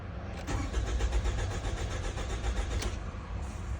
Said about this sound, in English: Let's look at that engine RPM as we turn the engine over.